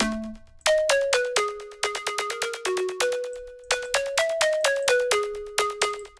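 Synth pluck melody with delay, played as a fast run of bright, sharp-attacked notes with short echoing tails, fairly loud and alone with no voices.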